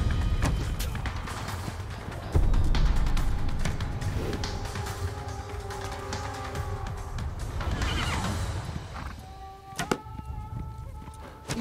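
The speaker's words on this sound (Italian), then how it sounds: "Gli arcieri a cavallo erano truppe scelte che galoppavano in battaglia" Horses whinny repeatedly over a dense clatter of hooves and battle noise in Age of Empires IV, with sharp twangs and thuds scattered throughout as horse archers gallop into battle.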